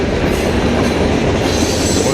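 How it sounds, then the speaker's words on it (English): A long freight train rumbles past a level crossing, a loud, dense, continuous roar with rolling wheel noise and rattling cars close by. "Got stuck by a big old train"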